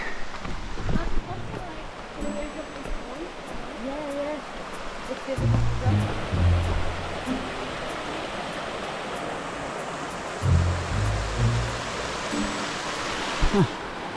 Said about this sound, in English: You can hear the waterfalls in the distance